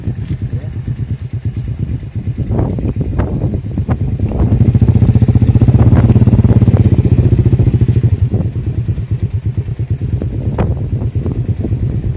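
A motorcycle ridden along a road around Tablas, its engine running steadily and swelling louder in the middle, with wind buffeting the microphone throughout.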